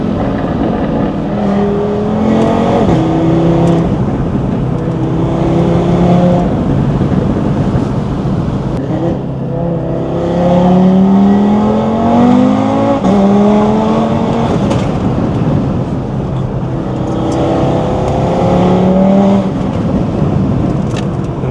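An Audi RS3 with a 2.5-liter inline-five engine driven hard, loud repeated revving climbs through the gears with brief shifts between pulls, raspy and close, no talking.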